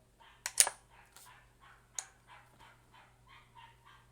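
A dog barks in the background of an indoor live stream, a few sharp distant yelps followed by quieter repeated barks, faint and irregular with no talk over them.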